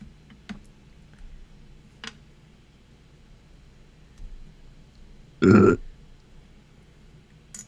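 A single short, loud burp rings out close to the mic during a Warhammer 40k miniature painting stream, standing alone against a quiet room with a few faint clicks and taps before it.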